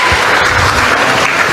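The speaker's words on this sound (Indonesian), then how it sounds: "Beri tepuk tangan lah dulu buat Garut sekali ini" An audience at an Indonesian government gathering in Garut claps loudly and continuously for a brief moment, a dense, even wash of applause throughout.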